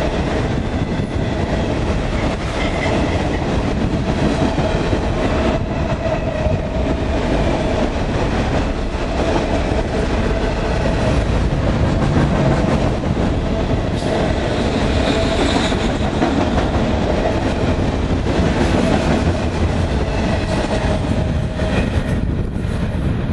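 CSX freight train Q409 led by locomotive CSX 3004 rolls past steadily at close range, a continuous loud rumble of wheels and railcars with rhythmic clickety-clack throughout.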